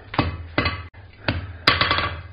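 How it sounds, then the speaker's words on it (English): A hammer strikes hot steel half on and half off the edge of an anvil while planishing a forged hook, giving four sharp ringing blows in an uneven rhythm, close and loud. "Kind of half on, half off blows on the edge of the anvil."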